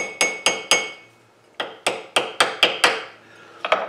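Sharp metallic taps of a small hammer fitting a piece of copper wire into a model Dinky Avro aircraft being restored, about ten close, ringing strikes in uneven bursts with brief pauses between.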